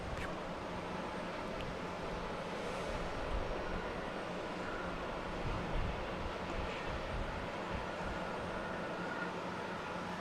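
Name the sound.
American Airlines Boeing 737-800 landing at Boston Logan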